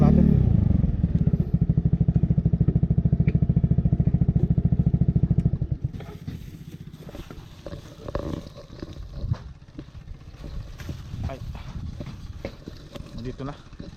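A motorcycle rumbles steadily up close on a rural island road, then the engine cuts out around the midpoint as it is parked, leaving footsteps, clatter and people talking nearby.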